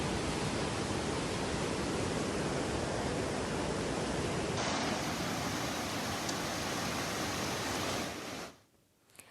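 Heavy monsoon downpour pouring over a village as floodwater collects, a dense, unbroken roar of rain that holds loud and steady, then cuts away abruptly near the end.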